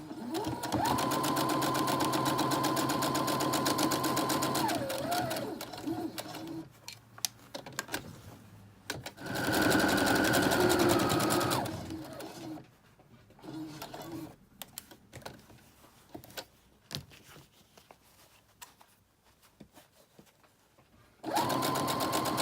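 A sewing machine stitches the top edge of a shirt cuff in loud, close, rapid mechanical runs, with several bursts separated by pauses and softer clicks and handling noises between them.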